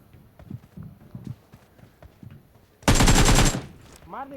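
Scattered thuds and footsteps lead into a loud, sustained burst of rapid automatic gunfire lasting under a second, followed by a short synthetic whooshing tone, in the video game BGMI.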